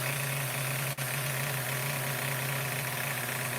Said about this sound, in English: Sickening idle. Can't kill that idle. Look at that idle.